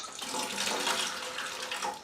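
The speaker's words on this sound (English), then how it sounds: "let me get set up and we're going to start sparging this off." Water pours steadily into a vessel while a whiskey mash of American single malt is sparged, giving a continuous broadband splash and hiss with no break across the whole stretch.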